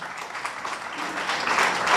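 An audience at an artistic and literary gathering applauds in a dense, continuous wash of clapping that swells slightly toward the end.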